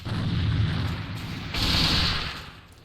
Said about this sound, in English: More nades coming out.